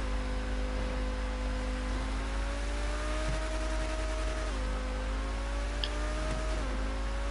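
A car engine in a video game drones at a steady pitch, climbing gradually and dropping back several times as gears shift, loud and continuous with a constant low hum underneath.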